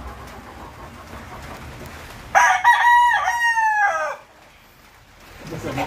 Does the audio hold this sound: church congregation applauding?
no